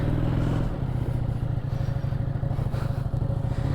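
A Ducati Diavel motorcycle is ridden, its engine giving a steady, loud, throbbing drone with a fast pulsing beat and some mechanical clatter throughout, with no speech.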